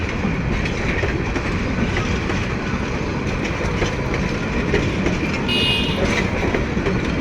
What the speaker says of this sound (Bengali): বিশাল এই লম্বা ট্রেনটি ছেড়ে চলে গেল ময়মনসিংয়ের উদ্দেশ্যে